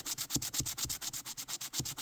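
Fine micro mesh, around 600 grit, rubbed back and forth across an aluminum cover plate for an old Vega guitar, making a close, steady rhythm of soft rasping strokes roughly every quarter second with no talk.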